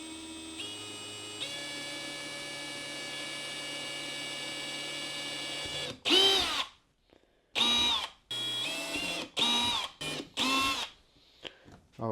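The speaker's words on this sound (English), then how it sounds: "I'm just going to drill our holes." A small power drill with a 1/16 inch bit bores holes while mounting a 24V Minn Kota Terrova bow motor on a Native Watercraft Hammer 12 kayak, a steady whine followed by several short bursts as the trigger is pulsed.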